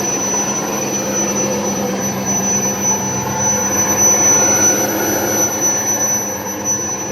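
A car with a coolant leak running with a loud, piercing high-pitched ring sustained over a steady engine roar, close and continuous with no talking.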